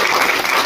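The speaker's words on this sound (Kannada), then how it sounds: "ಅವ್ರಿಗೆಲ್ಲ ಚಪ್ಪಾಳೆ" A crowd claps steadily and densely at the annual meeting and officer installation of the Akhanda Karnataka Rakshana Sevadala, applauding attendees from Bagalkot. The clapping is brief and sounds like a large audience, with no talk over it.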